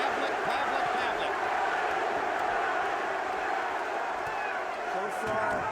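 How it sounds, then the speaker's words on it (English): A large boxing arena crowd at the Kelly Pavlik versus Jermain Taylor fight, a dense, loud, steady roar of many voices chanting and cheering with no break. "Crowd begins to chant, Pavlik, Pavlik, Pavlik."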